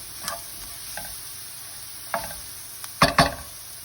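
A spoon scrapes and stirs through plant-based crumbles and tomato paste in a sizzling pan, with a soft steady fry underneath and a few sharp clacking strokes, the loudest pair coming near the end.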